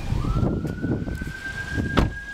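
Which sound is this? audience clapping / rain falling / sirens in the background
sirens in the background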